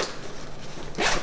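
A zipper rasps open briefly on a Fjallraven Ulvo 23 backpack, a short close scratchy pull with a sharper burst at the end.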